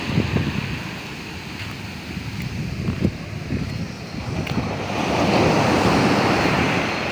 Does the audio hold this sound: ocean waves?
yes